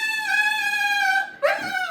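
A dog left outside a locked door gives a long, high, tonal whimper that holds steady, breaks off briefly, then rises again into a second whining cry, close and fairly loud with no talking.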